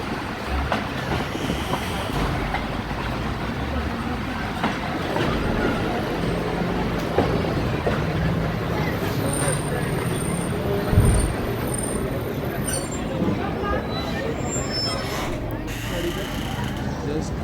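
A train rolls at speed along the rails at Attock railway station with a continuous rumble, metallic wheel squeal and high screeching tones rising over the noise, loud and close throughout.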